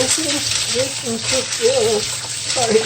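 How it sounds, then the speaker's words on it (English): Cold water pours and splashes steadily over hominy corn as it is rinsed to wash off the starch. The running water stays close and continuous, with a voice murmuring underneath. "rinse it in cold water for several times"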